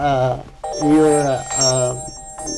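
Mobile phone ringing with a melodic, tonal ringtone pattern repeating in short phrases, fairly loud and near.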